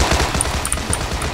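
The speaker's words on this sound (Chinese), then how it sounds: "在开枪" Rapid automatic gunfire in the mobile shooter Sausage Man, a dense, loud, continuous burst of shots with no talking over it.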